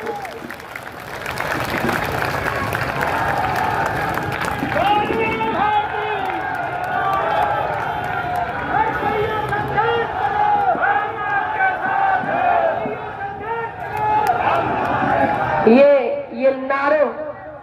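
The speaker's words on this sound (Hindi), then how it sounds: "ये नारों की आवाज" Large crowd at an outdoor Congress election rally in India, applauding and chanting slogans together, a dense sustained roar of voices and clapping that swells near the end.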